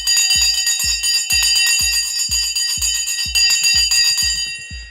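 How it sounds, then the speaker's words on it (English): Stock market closing bell ringing in a rapid series of about a dozen loud, clanging metallic strikes, each with a bright ringing tail, fading out at the end. "The bell is now gone."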